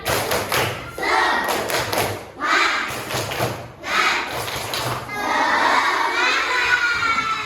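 Fifth-grade children in a classroom do a rhythmic clapping chant, with repeated bursts of unison claps and shouted syllables in a patterned beat, ending in louder group shouting.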